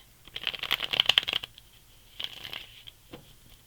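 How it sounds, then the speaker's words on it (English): A deck of cards being riffle-shuffled up close, a quick fluttering burst followed by a shorter second riffle and a soft tap. "One more shuffle and we're going to go with it."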